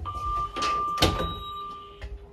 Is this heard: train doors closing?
yes